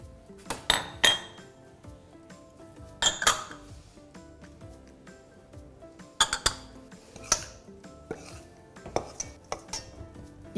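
Flour, salt, sugar and dry yeast mixed in a bowl, heard as intermittent clinks and scrapes of a utensil against the bowl in short bursts, moderately close and with no talking.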